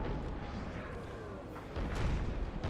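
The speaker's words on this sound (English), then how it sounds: "8 cannons shooting canister at the enemy right next to me." Cannons firing canister shot on an American Civil War battlefield in a video game, heard as a rolling low rumble of booms with a heavier blast near the end, set against constant battle noise.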